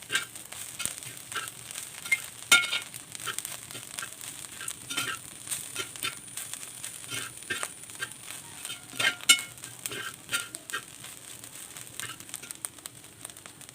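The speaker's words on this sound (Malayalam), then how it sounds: "അപ്പോൾ നമ്മൾ തേങ്ങ വറുത്ത് കഴിഞ്ഞു." Grated coconut roasts in a hot pan with steady sizzling and crackling, occasional stirring scrapes and clicks, close and continuous throughout.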